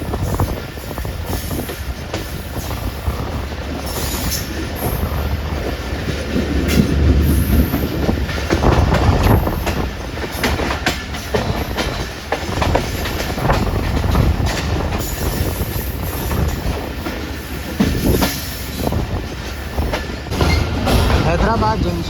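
Two trains on Pakistan's Main Line 1 pass each other at a curve near Hyderabad Junction, with the Shalimar Express among them, making a loud, continuous rumble and clickety-clack with squealing wheels, while a voice talks over it.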